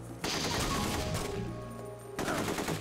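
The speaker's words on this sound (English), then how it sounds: "Who's shooting at me?" Sustained gunfire in the video game The Getaway, a dense burst of rapid shots that cuts off briefly and then resumes, loud and continuous, with no voices.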